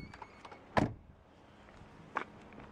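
A Lada Kalina car door opens with a quiet handle click followed by a second soft latch clunk, both close-up against a near-silent background.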